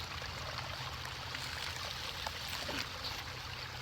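Water flushes through a portable water filter system, a steady soft trickling stream with a constant low background hum.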